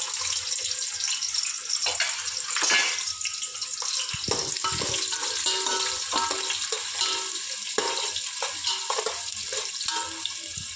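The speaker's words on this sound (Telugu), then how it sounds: "ఇప్పుడు ఆనియన్స్ వేస్తున్నాను" Onions sizzling in hot oil in a pot with cinnamon, cloves and cardamom for mutton dum biryani, a steady hissing crackle with occasional clinks and stirring.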